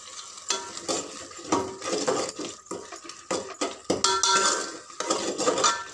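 Onions with chilli powder, coriander powder, salt and turmeric sautéing in a pan for mint biryani, heard as close clattering stirring and scraping over a light sizzle, irregular and busy, with no voices.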